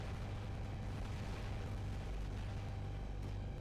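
Robot weapon fire from the mobile game War Robots, a dense, continuous rumble of rapid, loud booms with a steady low-end roar and no pauses, the intermittent fire blurring together.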